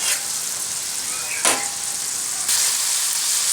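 Beef brain masala frying in a pan on low heat, with a steady close sizzle, a couple of sharp scraping stirs, and a louder hiss after the second stir.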